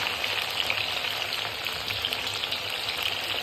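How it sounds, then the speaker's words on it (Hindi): Okra and cauliflower fry together in hot oil, giving a steady, dense sizzle and crackle that stays constant and close throughout, with no voices. "भिंडी और गोभी को दोनों को एक साथ फ्राई कर लेंगे।"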